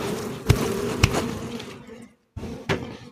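Honeybees buzz loudly at close range as they are shaken off a honey frame during honey extraction, a dense hum broken by a few sharp knocks and a brief silent gap.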